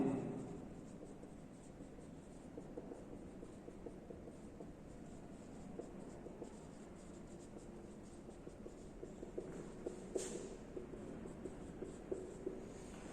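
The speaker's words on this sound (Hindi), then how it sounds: "अभी बता चुका हूं बट नाम लिख दे रहा हूं" Marker or chalk scratches faintly on a classroom board as names are written during a chemistry lecture, soft intermittent strokes over a low room hum, with one brief sharper squeak partway through and no talking.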